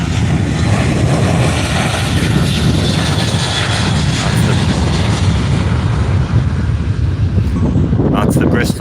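At Faro Airport, a jet airliner on the Bristol flight fills the air with a loud, steady engine roar mixed with wind buffeting, and someone talks over it near the end.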